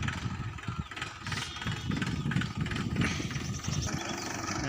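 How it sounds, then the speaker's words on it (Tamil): Tractor engine with a medium-pitched rumble that grows slightly louder as the vehicle approaches, steady and fairly near, with no talk over it. "வேறு வண்டி எடுத்துகிட்டு வராங்க, வண்டி வரும்."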